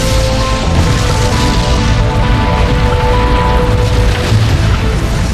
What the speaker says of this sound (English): A spark ignited the trapped fumes, triggering the first blast.